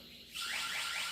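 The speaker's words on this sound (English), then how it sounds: "Alarm is going off. The keypad is ringing. The base station upstairs is ringing." Ring home security alarm sounding from the keypad, a loud, piercing electronic tone that cuts in abruptly after a quiet moment and holds steady.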